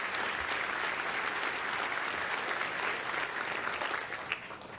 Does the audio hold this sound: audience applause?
yes